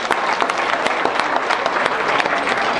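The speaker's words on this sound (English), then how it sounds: "everyone deserves a round of applause for showing up tonight" Applause fills the room at a fundraising dinner, with many hands clapping steadily and evenly throughout.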